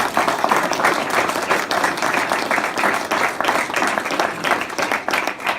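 A small audience at a golf signing gives a round of applause, the dense clapping steady and moderately loud throughout with no talk over it.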